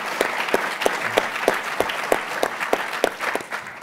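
Audience applause for the International House hosts fills a large, handsome room, a dense patter of many hands with sharp individual claps standing out, steady for several seconds and trailing off slightly at the end.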